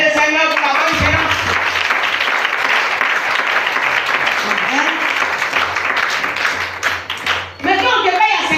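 A church congregation at a seminar breaks into sustained, loud applause to acclaim the Lord, a dense wash of many hands clapping that fades near the end before talk resumes.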